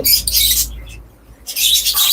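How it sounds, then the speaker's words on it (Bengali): Lovebirds at a breeding farm give loud, close bursts of shrill squawks and chirps, with a short quieter gap in the middle before the chattering resumes. "প্রচুর লাভবাট পাখি আছে ডিম বাচ্চা করা"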